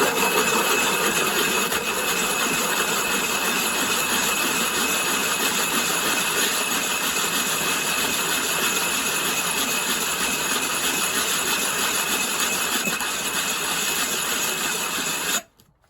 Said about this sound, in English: So you keep sanding on the roughest grit until you find that you have a flat surface